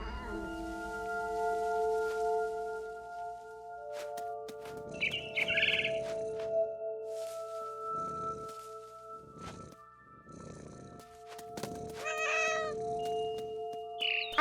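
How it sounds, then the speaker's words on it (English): In the video game What Remains of Edith Finch, a cat lets out several short meows and trills between pauses, with bird chirps scattered across a quiet tonal backdrop. "I was a cat."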